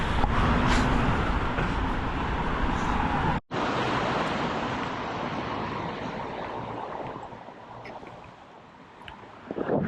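Ocean waves on a beach in Busan in cool weather, heard as a steady broadband wash and roar mixed with strong wind noise on the microphone, with a brief dropout partway through.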